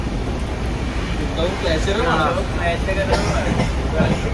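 Inside a Bangalore-bound train, it rumbles steadily along with rattling carriage noise and clacking, while someone talks over the din close to the microphone.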